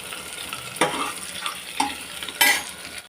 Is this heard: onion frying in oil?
yes